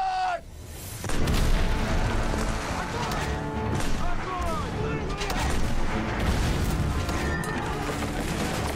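Artillery cannons fire canister shot at infantry in a World War II war film, booming blasts and crashing impacts layered in a dense, continuous battle din with shouting voices mixed in.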